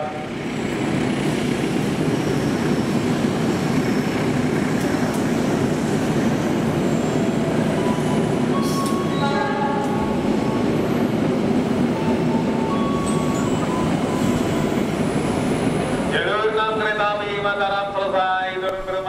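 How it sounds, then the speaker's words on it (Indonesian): A train passes straight through track 4 at an Indonesian railway station: a loud, continuous rumble and rattle of wheels and cars, ending with rising squealing tones as it goes by. "kereta api melintas langsung jalur 4"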